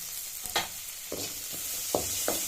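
Cashews and green chillies fry in a pan, a steady close sizzle with a few distinct scraping stirs and light clinks of a spoon at irregular moments.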